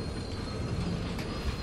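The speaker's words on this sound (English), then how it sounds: "Yeah, that's for the train to come through." A train rumbles through the scene in the Dishonored 2 video game, a steady, dense wash of rolling wheels and rail noise with a faint metallic squeal, continuous and fairly loud throughout.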